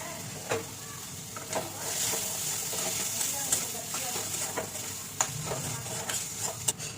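Fish pieces sauté in a pan with mashed boiled potato while a spoon stirs them, producing a steady hissing sizzle and periodic scraping taps, close and fairly quiet, with no talk over it.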